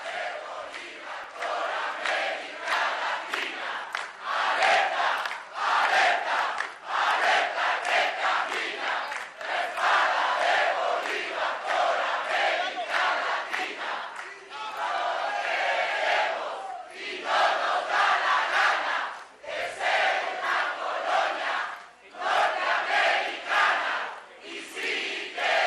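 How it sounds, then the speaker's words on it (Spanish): Large crowd of progressive party supporters applauding and cheering at a political conference panel event in Ecuador, a loud sustained roar of clapping and shouts with rhythmic surges, continuing for nearly half a minute. "fuerte el aplauso"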